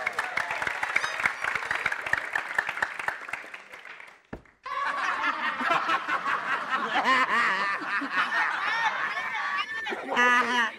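Studio audience on an Indonesian variety show claps and laughs in bursts, the noise dropping to near silence briefly midway before resuming steadily, mixed with chatter and talking throughout.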